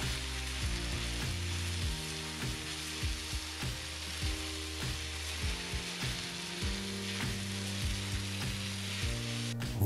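Noodles with vegetables and chicken are stir-fried in a pan: a constant loud sizzle with scraping, tossing and stirring sounds in an irregular rhythm, close up, while low background music plays underneath and nobody talks.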